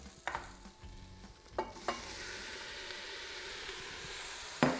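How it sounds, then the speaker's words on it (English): Beef and tomato paste stirred in a hot pan for a beef curry, a low steady sizzle broken by a few scraping strokes of the spoon, near and fairly quiet. "Give that another mix"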